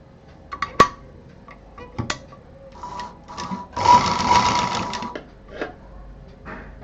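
Sewing machine stitching fabric pieces of a homemade hot pot pad, running in short bursts with a longer steady run in the middle, close and fairly loud.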